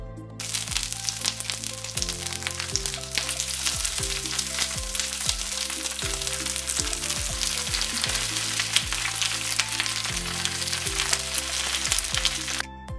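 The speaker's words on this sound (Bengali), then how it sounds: "তেলটা কিছুটা একটু গরম হয়ে আসলে তারপর সেই লাউ পাতার ইলিশ মাছটি একে একে দিয়ে দিয়েছি" Hilsa fish wrapped in gourd leaves frying in hot oil, a constant crackling sizzle with sharp pops throughout, under background music.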